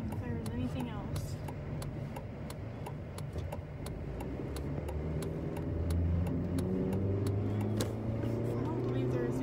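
A car accelerates on a town road while running errands, its engine a steady mid-pitched drone that rises in the second half, heard from inside the cabin and close, with faint repeated ticking over the top.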